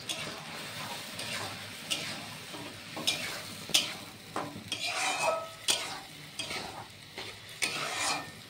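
Spice paste with potatoes and chicken fries in a pan, sizzling softly under repeated scraping strokes and clinks of a spatula stirring at an irregular rhythm.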